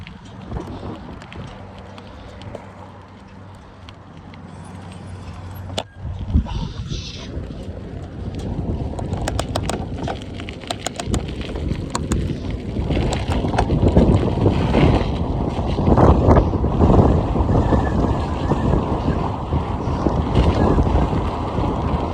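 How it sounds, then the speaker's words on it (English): Wind gusts into the microphone on a long ride, first soft and then building after a sharp knock into a loud, buffeting rush that continues to the end. "the wind's blowing the other way"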